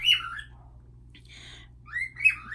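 A pet bird chirps indoors, giving a few bright whistled calls at the start and again near the end with a quieter note in between, over a low steady hum and no talking.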